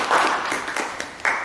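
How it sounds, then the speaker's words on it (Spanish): A class applauds female classmates in a classroom: a short, moderately loud burst of clapping with a few sharper claps standing out. "un aplauso para las compañeras"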